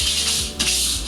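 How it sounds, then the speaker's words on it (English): A flexible sanding pad rubbing over chalk-painted furniture, a steady close abrasive scratching with brief strokes and no talk. "I've switched to a flexible sanding pad."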